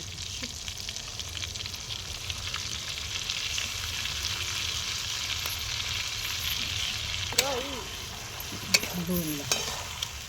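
Vegetables sautéed in a pan, likely brinjal or fenugreek greens, a steady sizzle with scraping stir strokes and a couple of sharp utensil clinks near the end.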